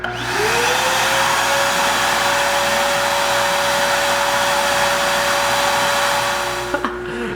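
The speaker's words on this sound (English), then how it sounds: "Wrap the bleeder loose, turn on the vacuum." A loud, steady vacuum motor whines up to speed and runs continuously, sucking brake fluid from a bleeder, then cuts out with a couple of clicks near the end.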